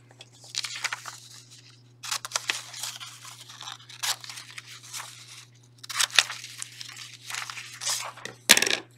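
Scissors snip and slice around an isometric paper drawing in quick, uneven bursts of crisp cutting and paper crinkling, close and fairly quiet, with brief pauses between cuts over a steady low hum.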